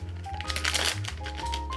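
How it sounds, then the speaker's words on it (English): Cardfight!! Vanguard box topper cards from a Destined Showdown (DZ-BT04) booster box get a quick hand shuffle, a short run of close, crisp flicking and riffling at low volume. "We're gonna give these a quick shuffle"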